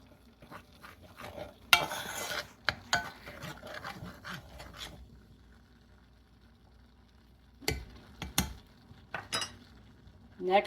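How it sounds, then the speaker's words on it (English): Melted butter bubbles in a pan over a lowered burner while making crab imperial, a faint soft sizzle broken by utensil scrapes and clinks against the pan. "You're going to let that sort of bubble and cook in there for about a minute."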